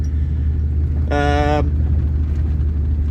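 A cammed big-block 1991 Chevy 3500 dually, just revived after seven years parked and with a dragging rear brake, rolls down the road in a constant deep low rumble, briefly overlaid by a short burst of voice.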